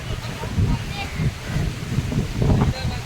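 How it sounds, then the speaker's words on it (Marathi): Rough, rumbling surf and wind noise from the sea at high tide on the Konkan coast roll on steadily, with low surging swells and gusty buffeting close to the microphone. "इथे पण समुद्राला भरपूर भरती होती"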